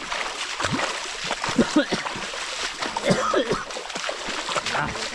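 Water flowing in a shallow creek, with steady splashing and sloshing close by and a continuous rushing wash underneath for the whole stretch.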